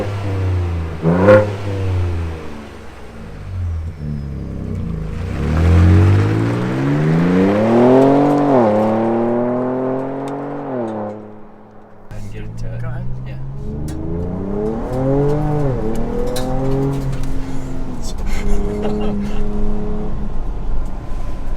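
A 2024 Ford Ranger Raptor pickup accelerating hard, its engine rising through gears in climbing revving sweeps, one shift break and then a second strong pull, loud and close throughout.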